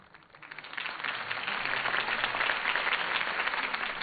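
Crowd applause from a Batman video game, a broad dense wash of clapping that swells in after a quiet start and holds steady and fairly loud throughout.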